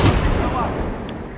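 A grenade blast in a video game, a loud booming burst with a rumbling tail lasting over a second, close and dominant.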